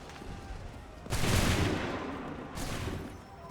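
A loud musket volley crashes out in the Assassin's Creed 3 video game, one big blast followed seconds later by a second, quieter volley, both close and harsh over steady background noise.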